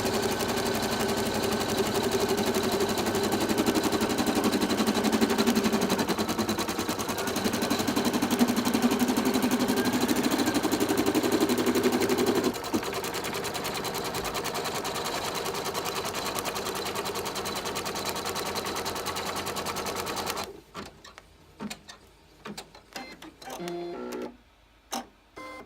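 An embroidery machine stitches a zipper bag in the hoop with a fast, steady mechanical whir and needle rhythm that runs continuously for about twenty seconds, then stops, leaving quieter scattered clicks and movement.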